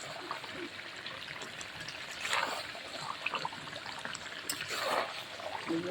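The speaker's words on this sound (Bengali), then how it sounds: "এবারে আমি জল দিয়ে দেবো" Water is poured into a curry cooking in a pan after the spices have been fried in oil, giving a soft trickling and sizzling pour close by, with no talk.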